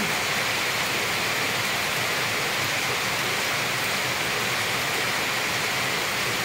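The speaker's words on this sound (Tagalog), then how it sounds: "Napakalakas ng ulan." Heavy rain pours steadily and loudly throughout, a dense continuous hiss with no talking, falling during lunch preparation while grilled eggplant and fried bisugo fish are being cooked.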